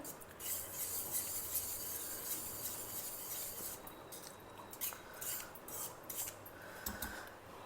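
A spoon scraping and stirring a roasted besan and curd mixture in a pot, soft continuous rubbing with occasional clinks against the metal, quiet and close.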